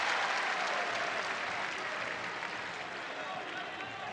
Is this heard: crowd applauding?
yes